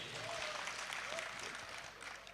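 Audience applause for a village at a Gujarati comedy show, a steady wash of clapping that fills the short stretch with no voices over it.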